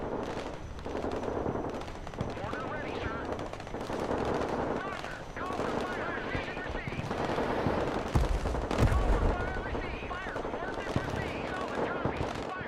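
Sustained gunfire and explosive bursts from the Broken Arrow video game, with rapid rattling fire and heavy booms such as mortar impacts running continuously under someone talking throughout.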